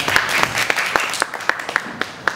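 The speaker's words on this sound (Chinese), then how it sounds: "来掌声欢迎好不好？" An audience claps to welcome an official at a morning school event attended by principals and media, a steady wash of applause with sharper individual claps standing out over roughly two and a half seconds.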